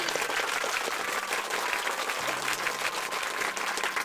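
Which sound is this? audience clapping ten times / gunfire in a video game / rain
audience clapping ten times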